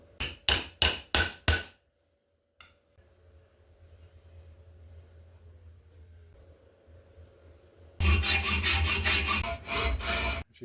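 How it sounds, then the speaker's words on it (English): A hammer strikes inside steel tubing for a Softail motorcycle's DIY dual exhaust. Five sharp, ringing metallic raps come first, then a quiet stretch with a faint hum, and finally a fast, loud burst of repeated strikes. "I discovered one of my hammers fits perfectly inside this tubing."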